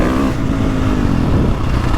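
A 2022.5 KTM 450 Factory Edition dirt bike, ridden on engine map 2, gives a loud, close, rough engine drone with a constant throttled pulse and no voices.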